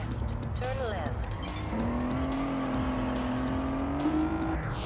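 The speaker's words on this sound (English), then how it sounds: "I love that you can drift around every single corner in this game." A car drifts around a corner in the PS2 racing game Test Drive Unlimited, with a steady, loud engine drone and a sustained tire squeal through the turn, continuous from start to finish.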